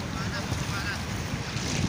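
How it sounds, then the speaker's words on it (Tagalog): A boat approaches a sandbar at high tide off Pagbilao, Quezon, its engine a steady low rumble under gusting wind noise and the wash of waves, continuous and fairly close, with no talk. "parating na yung ano namin, yung bangka namin."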